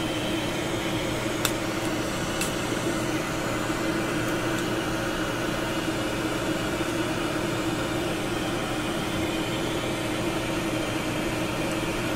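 A steady, loud rush of blown air runs without a break as dust is cleaned from the chassis of a Philips Sonate BA581A vacuum tube radio. A faint low hum and a couple of small ticks sit underneath.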